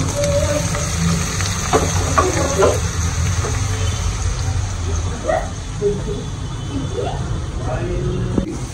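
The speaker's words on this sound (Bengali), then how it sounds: "তো প্রথমে আমি আগে বেগুন গুলা একটু ভাজবো হালকা করে" Eggplant pieces frying lightly in oil in a pan in a home kitchen, a steady soft sizzle running beneath someone talking, with a few clinks.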